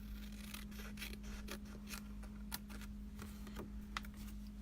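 Scissors snip through a paper coffee card with a run of short, close, crisp cuts in an irregular rhythm over a steady low hum.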